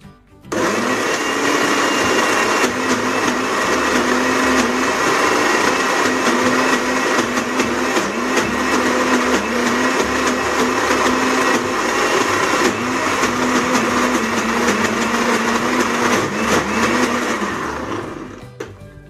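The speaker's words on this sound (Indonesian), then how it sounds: "ini dagingnya sudah semua aku blender" A blender roars continuously for a long stretch, grinding meat with ice in a steady, loud whir that winds down at the end.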